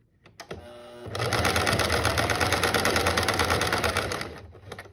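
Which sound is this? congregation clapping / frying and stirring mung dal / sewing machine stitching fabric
sewing machine stitching fabric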